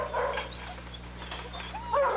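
Guide dog puppies at a training center yip, bark and whimper together in a busy, close cluster of high-pitched calls that swell louder near the end.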